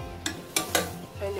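A metal lid is set onto a pot of boiling okra sauce with mackerel and cow skin: a few short, close clanks stand out over a low, steady simmering hum.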